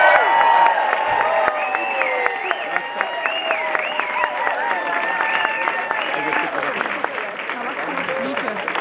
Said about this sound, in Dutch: Mag ik een geweldig applaus voor Kurt van Egem?